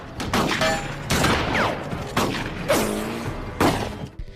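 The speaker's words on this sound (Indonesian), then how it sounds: "Dan tentunya di sini terjadi baku tembak yang seru antara tim Grit dan tim Malden" Gunfire in a shootout from a zombie film, several loud bursts of shots in quick succession with echoing impacts, close and dense throughout.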